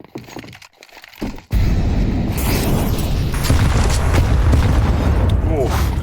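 Grenades exploding during a Counter-Strike 2 match on the Inferno map, a loud sudden burst followed by sustained crackling blast noise close by, with commentators talking over it.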